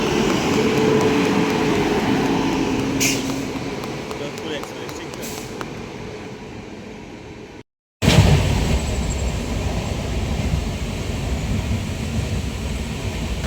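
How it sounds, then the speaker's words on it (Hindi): A passenger train pulls in at a station platform in West Bengal, its loud rumble and rolling wagons filling the scene, with a sudden cut and then continued heavy rail noise and a faint voice underneath. "हमारा ट्रेन आ गया है।"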